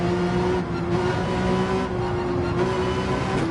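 Ferrari race car in Gran Turismo 7 online racing, a steady high-pitched engine drone holding near-constant revs with slight pitch shifts, loud and continuous, no talking.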